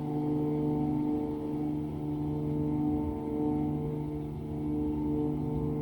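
A simulated aircraft's engine drones at full power with a steady low rolling rumble during the takeoff run in a flight simulator game, loud and continuous without speech.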